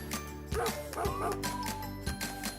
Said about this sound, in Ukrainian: Це собака.